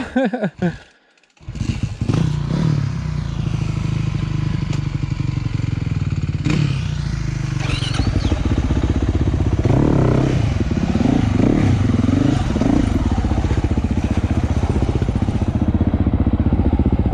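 A trail motorcycle engine runs loud and close on a tight forest trail on Rampart Range, briefly cutting out, then restarting and revving with clattering and scraping.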